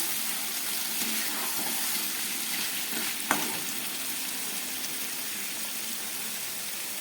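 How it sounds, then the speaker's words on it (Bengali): Water poured into a pan of fried-down curd chicken curry masala, setting off a steady, loud hiss and sizzle that holds evenly throughout, with one sharp clink partway through. "আমি এর মধ্যে পরিমাণ মতো জল দিয়ে দিচ্ছি।"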